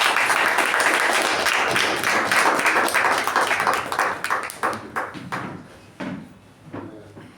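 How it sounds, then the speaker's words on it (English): A Toastmasters meeting audience claps in a full round of applause for a panelist, steady and bright at first, then thinning into scattered individual claps that trail off near the end. "Please welcome the second panelist for today, Toastmaster Prashant, with a huge round of applause."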